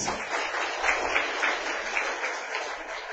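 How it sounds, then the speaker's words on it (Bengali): An audience at a rooftop farming class and award session claps together in steady, moderately distant applause that continues throughout without any talking. "আমরা হাততালি দেই"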